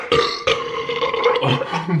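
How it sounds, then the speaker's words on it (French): A loud, drawn-out human burp during a burping contest, rumbling in several pulses for about two seconds, close to the listener with no talking over it. "On pourrait faire un challenge qui fait le plus gros rot"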